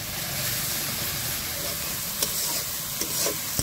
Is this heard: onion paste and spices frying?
yes